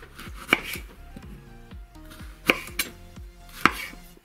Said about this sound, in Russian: Не слишком крупно, не слишком мелко будем измельчать